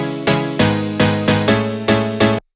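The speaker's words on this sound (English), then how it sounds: "You just need this like really short, tight, punchy piano sound." A dry house piano sample with no effects plays short, tight, punchy chord stabs, six bright hits in a steady rhythm, close and loud, alone with no voices, stopping abruptly.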